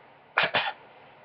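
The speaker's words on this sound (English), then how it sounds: "he's coughing because he's sick" Two quick, close coughs in a row, sharp and breathy, with quiet before and after.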